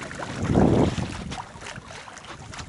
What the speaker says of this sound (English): It's real windy, real windy. Hear it?